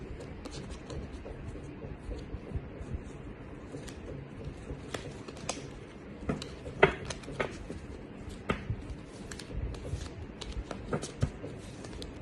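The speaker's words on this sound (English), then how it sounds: "So let me start shuffling the cards" Tarot cards are shuffled by hand in a steady stream of soft, close riffling and tapping, quiet and continuous.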